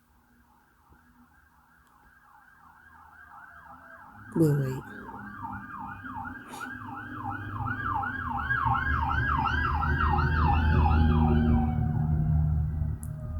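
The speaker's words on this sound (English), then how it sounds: "now I hear sirens" Wailing emergency sirens rise and fall repeatedly, growing louder as they approach, over passing traffic rumble with a brief spoken remark.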